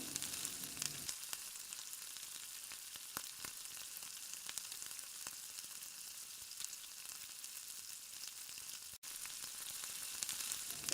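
Fennel, cardamom, cinnamon, bay leaves and cloves fry in oil for vegetable pulao, giving a bright, even hiss and crackle that holds steady throughout with a few small pops, close and alone.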